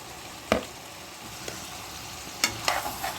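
Fried dry fish pieces cook in a simmering serm curry with a faint, even sizzle and a few soft clinks and stirs of a utensil against the pot, quiet and without talk.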